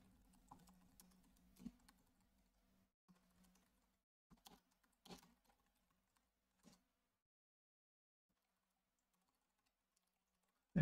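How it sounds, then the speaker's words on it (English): Typing on a computer keyboard, quiet scattered key clicks in short bursts, sparse and fading out, ending with a sharp louder tap, no voices. "If you give me just 1 second so I can finish typing it out."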